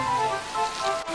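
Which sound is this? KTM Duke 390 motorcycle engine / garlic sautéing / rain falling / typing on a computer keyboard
rain falling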